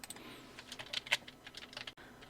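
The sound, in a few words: computer keyboard typing text in Photoshop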